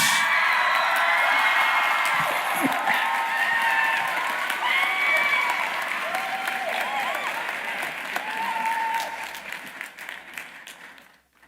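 A graduation ceremony audience breaks into sustained applause with cheers and whoops, a dense, loud wash of clapping that holds steady and then gradually thins out toward the end.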